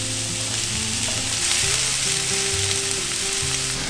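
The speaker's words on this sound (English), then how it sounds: "So we'll let these cook for a couple seconds, and then we'll put the garlic in" Food fries in a pan for a vegan Spanish omelette, with a loud, steady, close sizzle and crackle and faint stirring throughout.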